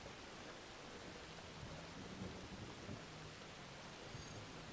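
Steady rain pours down during a Forza Horizon 4 street race in wet weather, a dense, even hiss filling the whole scene at low level, with faint low rumbles beneath.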